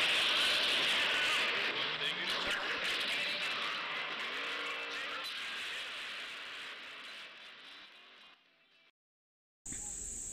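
Engine roar of a Lightning Buggy racing through a Rush Hour gang event in Gangstar Vegas, loud and steady with tire noise, fading over about nine seconds before a brief silence and a sudden burst of sound.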